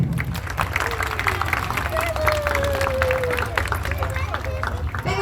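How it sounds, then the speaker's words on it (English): Crowd at a sea lion show clapping and cheering, a moderate, continuous patter of applause mixed with chatter, with brief whistle-like tones over it. "We'll give him a cheer, well done you."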